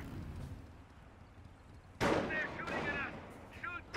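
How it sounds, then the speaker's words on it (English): Battlefield gunfire on the Eastern Front in the strategy game Company of Heroes: quiet ambience, then a sharp, fairly close report followed by further shots, with soldiers' voices calling out over the fighting. "They're shooting at us."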